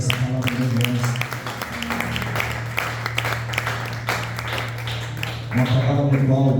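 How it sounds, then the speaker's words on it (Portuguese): Church congregation clapping during a healing and deliverance worship service, a steady burst of many hands applauding across the middle, framed by a loud amplified voice and sustained tones at the start and end. "As palmas, glória e exalta o nosso Senhor Jesus por essa palavra gloriosa."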